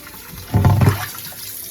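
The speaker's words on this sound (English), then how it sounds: "we're going to use fresh water to rinse it off" Fresh water splashes over raw tilapia fish as it is rinsed before cooking, a short burst of pouring and sloshing near at hand that fades to quiet dripping afterward.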